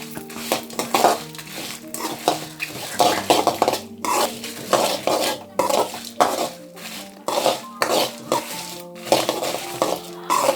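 A spoon clinks and scrapes against a pan as puliyogare spice mix is stirred and fried on a low flame, with repeated metallic taps and scraping strokes in an uneven rhythm, close and fairly loud, no talking.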